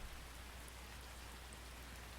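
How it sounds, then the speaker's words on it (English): Rain falling in a dark forest in a video game, a steady, dense hiss of drops without pauses or voices. "in the forest, rain works quite well as well"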